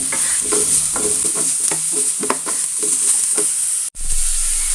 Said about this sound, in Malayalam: ആദ്യം നമുക്കതിലേക്ക് സവാള ഇട്ട് കൊടുക്കാം